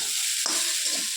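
Vegetable curry stirred in a pan while cooking: a steady frying hiss with one scraping stir, close and brief.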